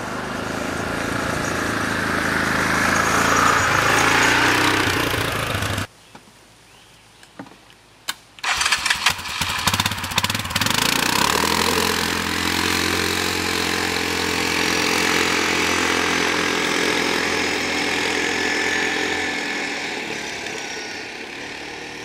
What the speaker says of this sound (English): instead of using a truck, we're gonna use a four-wheeler. We're gonna run over the flashlight a couple of times